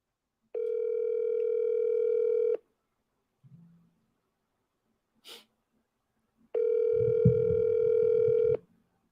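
Telephone ringback tone on an outgoing call, heard as two long steady buzzing rings separated by a few seconds of quiet, with a brief rustle and click between them and a low murmur under the second ring.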